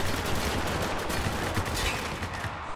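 Steady firefights in a Spec Ops: The Line multiplayer team deathmatch, with rapid automatic gunfire and scattered shots crackling continuously at mid distance and no talking over it.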